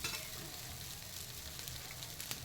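Mung dal dosa batter roasts on a hot pan, giving a steady close sizzle and crackle with faint scraping, no voices.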